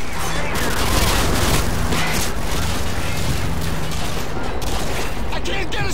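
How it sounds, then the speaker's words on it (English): A sentry gun hammers away in Call of Duty Modern Warfare 2, loud and continuous rapid fire mixed with explosions and battlefield din, heard at close range throughout. "Take out that sentry gun!"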